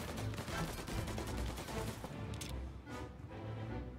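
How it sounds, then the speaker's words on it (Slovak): Gunfire aimed at the player in the video game Mafia: Definitive Edition, a dense, rapid rattle of shots and sharp cracks running throughout, moderately loud and without speech. "Čo mám pocit, že niekto po mne strieľal."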